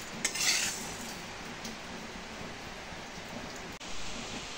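Dry urad dal (biulir dal) roasting in an unoiled pan, with a steady rattling, scraping hiss as the lentils are stirred and a few sharp clinks of the spoon against the metal, close and continuous with no voice.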